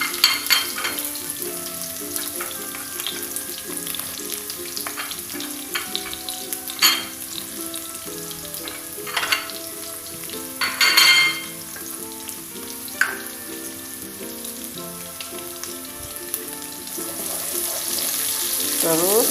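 Chopped shallots sizzle and crackle in hot oil in a pan while tofu with tauco is being cooked, a steady close frying hiss broken by scraping stirs and utensil clinks, with faint talk in the background.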